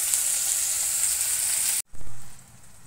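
Thinly cut potatoes for aloo chachchari fry with black cumin and green chilli in a pan, a loud even sizzle that cuts off abruptly near the end, followed by quieter low clatter.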